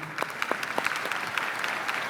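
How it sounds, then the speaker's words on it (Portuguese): A church congregation claps in applause at a service, a dense, steady patter of many hands from a mid-sized crowd, lasting about two seconds without voices over it. "Eu gostaria de uma salva de palmas para o clube"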